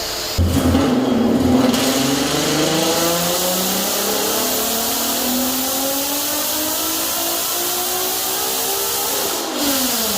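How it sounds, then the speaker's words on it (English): A 1993 Volkswagen Corrado VR6 engine revs hard on a dyno and climbs steadily in pitch for several seconds under load, loud and close, before dropping off. "The car is a 93 Volkswagen Corrado VR6."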